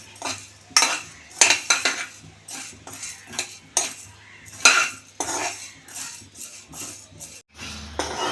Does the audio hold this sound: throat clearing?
no